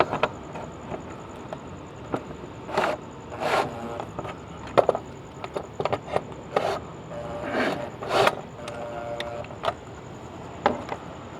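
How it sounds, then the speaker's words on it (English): A socket wrench tightening fasteners while installing an outdoor motion-sensor solar light, with close, intermittent ratcheting clicks and scraping in short bursts. "now I'm gonna tie it up with the socket set that we got"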